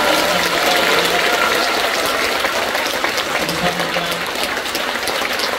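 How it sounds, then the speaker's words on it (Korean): Loud, steady applause from a large audience fills the grand theater of Seogwipo Arts Centre at an evening talk concert, a dense wash of clapping that holds strong throughout without a break. "여러분 큰 박수 부탁드립니다"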